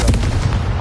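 A Confringo fire spell blast in Hogwarts Legacy, a loud, booming burst of fiery impact that rumbles on through the whole moment with no voice over it.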